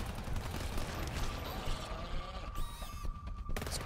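A combat shotgun fires in GTFO amid chaotic gunfire, heavy blasts and mechanical clatter, close and fairly loud, with a ringing tone toward the end.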